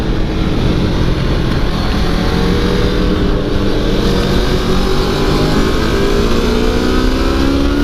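A motorcycle on the New Hampshire Motor Speedway track roars at full throttle, engine pitch climbing steadily as it accelerates hard, loud and close with constant wind rush and no talk.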